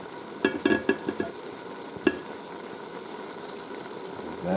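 Cabbage and onions frying in a Ninja Foodi, a low steady sizzle broken by a few sharp scraping stirs near the start and one more midway, with no talk.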